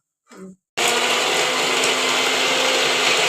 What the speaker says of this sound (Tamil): இப்போ இது நல்லா வந்து ஆறுனதுக்கப்புறம் நம்ம மசாலா ஆட்டிட்டு பார்க்கலாம்